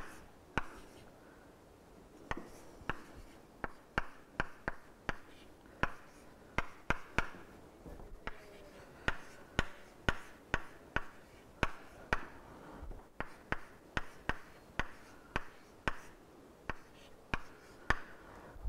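Chalk or marker writes on a board during a maths lecture, a quiet series of short taps and strokes in irregular bursts, heard close against a low room hum.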